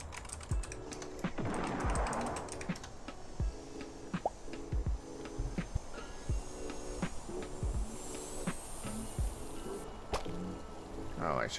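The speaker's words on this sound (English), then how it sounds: "typing in Discord instead of here" Quick bursts of typing on a computer keyboard, close and distinct clicks in irregular runs, with faint background hiss and no talking.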